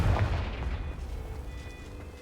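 A Confringo blasting spell exploding in the Hogwarts Legacy video game: a loud, deep boom that rolls into a sustained low rumble and slowly fades.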